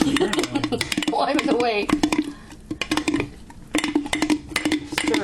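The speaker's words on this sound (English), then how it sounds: "We're going to stir." A spoon scrapes and clinks against a bowl while day-two sourdough starter, thick and yeasty, is stirred in a home kitchen, with irregular knocks and scrapes under close, steady conversation.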